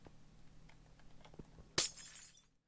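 A glass block in a Minecraft-style game is punched and shatters in one sharp, bright crash that rings out briefly. Quiet background noise comes before it.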